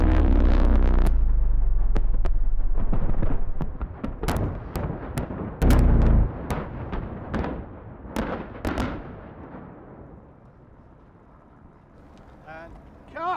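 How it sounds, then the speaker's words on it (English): A massive film-set detonation of 24 one-kilogram high explosive charges for Spectre roars as a loud, deep sustained blast, then fades into scattered cracks and debris rumble while people's voices rise afterward. "Largest explosion in the history of movies."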